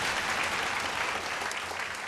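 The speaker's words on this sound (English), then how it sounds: "Quick round of applause for them," A television singing-competition audience gives a quick round of applause for an airline sponsor, a steady, full burst of many hands clapping together without a break.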